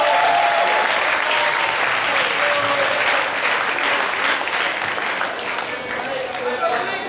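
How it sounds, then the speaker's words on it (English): An audience gives a round of applause for Eric, the group leader, at a rainforest music festival introduction; steady, loud clapping fills the whole stretch with crowd texture and a few voices mixed in. "Shall we give him a round of applause?"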